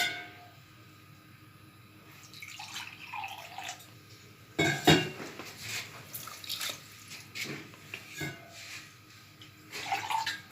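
Half a cup of water poured into a pan of sugar to make syrup for amla murabba, with intermittent splashing, dripping and clinking in a home kitchen, louder bursts separated by quieter pauses.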